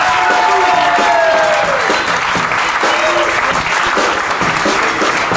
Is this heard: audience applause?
yes